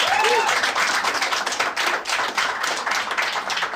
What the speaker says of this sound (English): Not applause from everybody